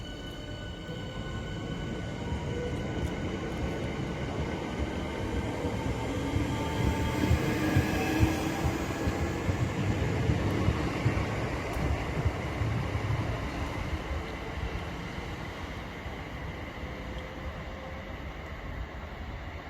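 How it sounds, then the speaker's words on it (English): Southeastern passenger service pulling out of Grove Park station toward Charing Cross, a smooth electric train hum and wheel rumble that swells as it passes nearby, then fades away. "departing now is the 1321 Southeastern service to Charing Cross."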